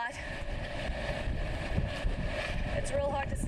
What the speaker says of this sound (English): The winds are so strong.